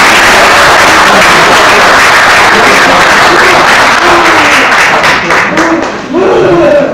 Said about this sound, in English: I don't know if you're supposed to applaud in these things or not.